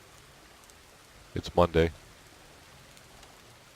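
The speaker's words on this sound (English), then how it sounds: "and it's chucking down rain" Steady rain falls in the Farmer's Dynasty farming game, a soft, even hiss of drops running throughout while someone speaks briefly over it.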